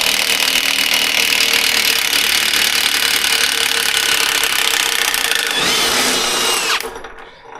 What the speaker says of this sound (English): This is 18mm bolt, and I'm going to use the impact wrench.